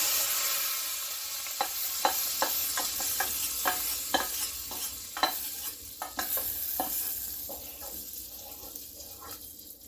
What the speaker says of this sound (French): Verser ça sur la dalle.